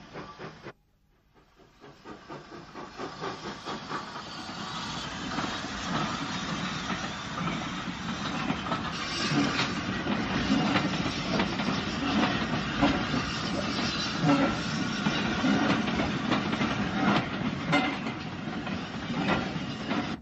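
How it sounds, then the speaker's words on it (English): Steam tank engine working hard up a steep branch line with a push-pull train, a steady hissing, chuffing roar with rail clatter building from quiet to a sustained loud passage. "The branch was steeply graded, and a tank engine had to work hard on their push-pull trains."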